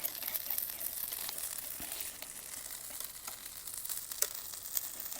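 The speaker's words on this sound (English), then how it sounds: "Try and keep giving this a little whisk," Grits with bacon are whisked in a hot pan, giving a soft, continuous sizzle and crackle with faint scraping strokes and the odd sharper pop, fairly quiet and with no talking.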